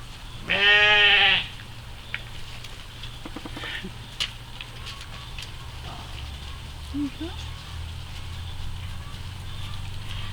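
A Shetland sheep lets out one loud, wavering bleat nearby on a farm, then quiet outdoor ambience with faint rustles and small knocks follows.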